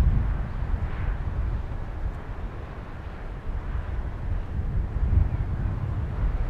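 Wind blows across Madeira airport, a steady, loud low rumble of gusting air buffeting the microphone with no voices.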